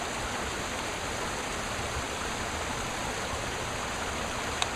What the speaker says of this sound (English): with the creek running all the way up through here